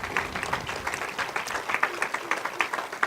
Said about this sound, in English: Let's a round of applause for those on the stage.